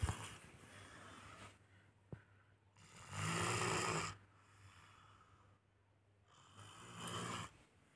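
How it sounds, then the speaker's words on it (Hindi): A person snores loudly in rough, rasping bursts separated by quieter breathing, close by, with no talking. "ये देखिए कितना ज़ोर ज़ोर से खर्राटा ले रही है।"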